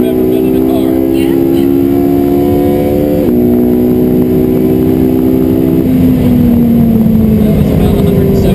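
A race car roars steadily at about 170 miles an hour on a wet track, its engine note droning loud and close from inside the cockpit and dropping as it shifts and slows.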